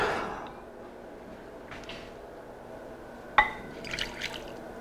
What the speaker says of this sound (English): Put the boiling water in here.